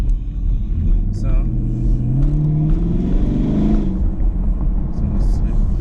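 2021 Chevrolet Camaro SS V8 with the performance exhaust valves held open, a deep rumbling idle that swells into a rising rev around the middle and settles back, loud and close.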